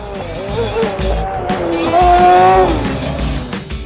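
A sprint car engine roars loudly nearby, its rough growl rising and falling in pitch as it revs, with some rumbling background noise.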